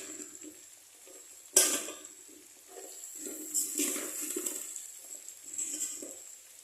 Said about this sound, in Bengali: এখানে এর সাথে আলু ফুলকপিগুলোকে আমি এখানে দিয়ে দেবো।